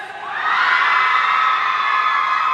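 A large crowd screams and cheers at a Thai film press event in a loud, sustained high-pitched roar that swells quickly and holds steady.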